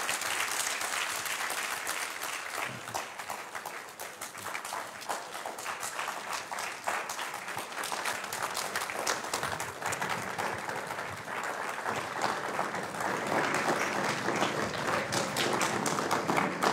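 Sustained, dense applause from an audience after the Carol Bristol distinguished lecture, clapping steadily for many seconds at a moderate distance with a few thumps mixed in.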